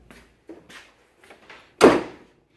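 A gullwing car's driver door is handled with several light clicks and latch knocks, then swung shut with one solid, loud thump near the end, close by and with no voices.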